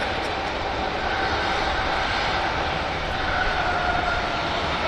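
A Ryanair jet taxies at Manchester Airport, giving off a continuous, fairly loud engine roar and hiss that stays steady from start to finish.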